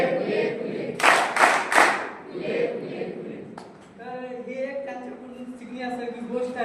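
At a farewell ceremony, a group gives three loud, evenly spaced claps in quick succession. A voice follows, then quieter talk and a sustained tonal sound.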